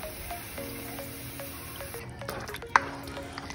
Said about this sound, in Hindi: अब मैं पानी ऐड की हूँ,